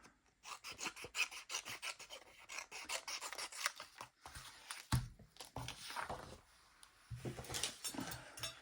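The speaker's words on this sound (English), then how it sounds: "Let me cut this one out" Scissors cutting a photo out for a collage, heard as close, rapid raspy snips and paper rustling in irregular bursts, no speech.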